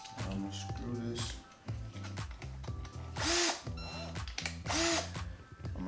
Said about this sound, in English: I'm gonna screw these on.